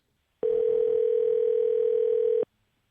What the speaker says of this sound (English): Now we're going to be calling Joseph